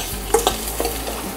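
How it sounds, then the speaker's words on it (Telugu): Garlic cloves hit hot chili oil for an egg curry, giving a brief crackling sizzle with a few sharp pops and stirring, close and fairly quiet. "కారం వేసిన తర్వాత ఒక హాఫ్ సెకండ్ ఇలా అన్ని వెల్లుల్లి రెమ్మలు వేసేసుకుని స్టవ్ ఆఫ్ చేసేసుకోవాలి."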